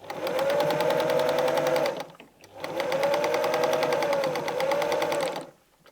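A sewing machine stitches patchwork fabric along a seam allowance line in two steady bursts of rapid, even mechanical whirring, close and loud, with a brief pause between runs and a stop at the end.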